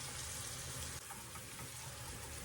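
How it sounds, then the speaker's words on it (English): Shrimp fry in butter and garlic in a pan, a soft, steady sizzle that hisses evenly throughout without pause. "So 2 or 3 minutes, stirring them around in this butter and garlic."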